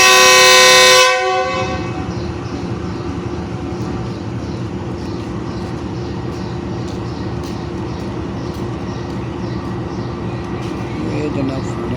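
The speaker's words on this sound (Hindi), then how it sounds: "ये जनाब फाइनल वर्सिंग हो चुकी है और आप देख रहे हो ट्रेन रवाना हो रही है।" Pakistan Railways Subuk Kharam railcar pulling out of Rawalpindi station in rain, a loud horn blast at the start giving way to a steady rumbling run of wheels and engine that continues throughout, with voices talking over it.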